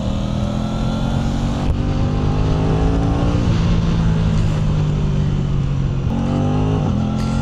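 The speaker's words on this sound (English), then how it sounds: "See if we can open this bike up a little bit." An Aprilia RS660 sport motorcycle accelerates hard on a road in Southend, its engine note climbing steadily through gear changes, with a brief dip in pitch between shifts. The engine is loud, close and continuous throughout.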